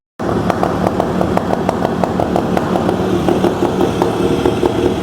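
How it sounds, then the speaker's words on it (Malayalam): A Yamaha RX-series motorcycle engine (RX100/RX135/RXZ two-stroke) idles just after starting, a loud, steady close-up chugging with rapid regular firing pulses that runs without a break. "ഓക്കെ, വണ്ടി സ്റ്റാർട്ടായിട്ടുണ്ട്."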